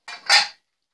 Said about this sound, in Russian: Пересыплю их в тарелочку